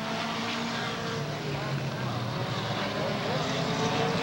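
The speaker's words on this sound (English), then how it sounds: "Here they are coming down the front straightaway, heading into turns 1 and 2, and now on the back straightaway" Stock cars at Highland Rim Speedway in 1997 roar down the front straightaway in a dense, continuous engine drone under a fast-talking announcer.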